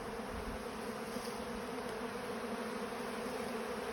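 Honey bees swarm around their hive and on the ground in front of it, a dense, continuous buzzing that stays steady and close throughout, with no voices.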